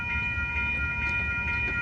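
Amtrak Capitol Corridor train #529 rolls past the 98th Avenue grade crossing in Oakland, California. Its steady, loud rumble is close by and carries sustained horn-like tones through the whole pass.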